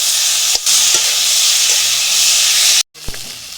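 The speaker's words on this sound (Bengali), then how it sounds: "এবার বেটে রাখা মশলাটা দিয়ে দেবো। ভালো করে কষিয়ে নেব।" Spice paste with salt and turmeric sizzles loudly in a pan for fish curry, a steady hissing fry broken by brief scraping stirs, with one short dropout near the end.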